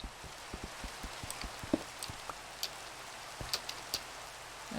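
Rain falling in the video game Minecraft, soft steady patter with scattered faint drop ticks, quiet and continuous with no talking.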